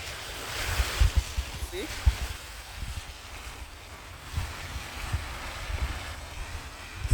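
Heavy rain pours down on a road in Pembroke, Kingston, Jamaica, a steady broad hiss with occasional dull thumps and splashes; a voice briefly speaks once.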